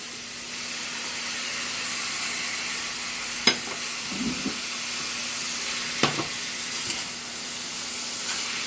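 Cauliflower and vegetables fry in masala for a gongura vegetable biryani, a steady close sizzle and hiss throughout, broken by a few soft clinks and stirring knocks.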